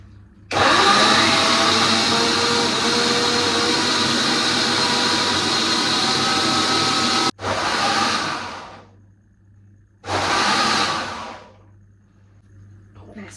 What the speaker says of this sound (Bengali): তো এই যে আমার এটাও রেডি হয়ে গেছে, মানে এবার এটাকে জাস্ট ব্লেন্ড করব, তাহলেই হয়ে যাবে।